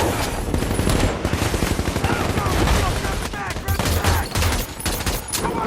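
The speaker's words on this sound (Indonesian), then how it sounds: "tiba-tiba saja sang sniper Mustafa langsung menembaki konvoi tentara Amerika" Sniper gunfire hitting an American army convoy from a distance, a dense, continuous crackle of shots and bursts that fills the stretch with heavy, overlapping reports.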